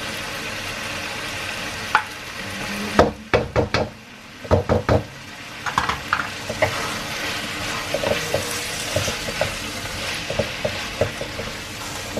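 Tomatoes and tomato paste frying in a home kitchen pan, with a spoon knocking and scraping sharply against the pan over a continuous low sizzle, close and without talking.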